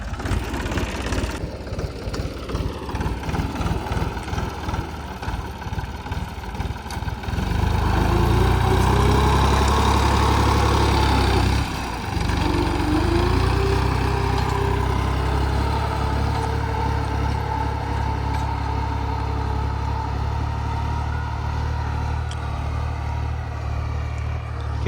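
A Deutz tractor's diesel engine, just repaired after a broken shaft, chugs at idle, then revs up into a loud, steady drone with a brief dip before settling back to a constant roar.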